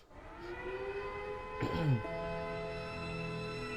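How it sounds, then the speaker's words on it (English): A distant civil-defense-style siren wails faintly across an anime city scene, rising and holding its tone under a low background rumble, with a brief louder swell near the middle. "I could faintly hear a siren as well"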